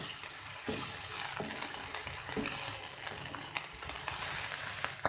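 Ingredients frying in a pan for a cheesy chicken vegetable sandwich, cooked until they turn white, with a steady close sizzle and a few sharp stirring scrapes and knocks throughout.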